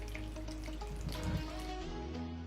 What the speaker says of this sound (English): I'm adding real water here.